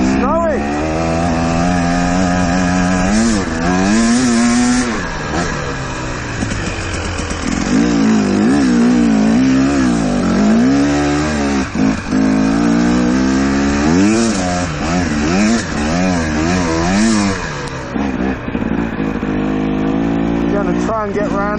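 A motorcycle engine revs and drones up and down throughout a ride on a snowy mountain road, its pitch rising and falling with the throttle, loud and close, while a rider talks over it at times.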